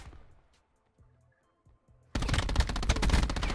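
Rapid automatic gunfire in a Black Ops 4 match with a Saug SMG, a sudden loud burst of close shots after a near-silent pause.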